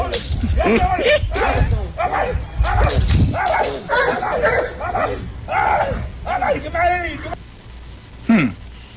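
A dog on a street barks and yips in quick, repeated bursts, close and fairly loud, mixed with people talking over a busy live outdoor broadcast.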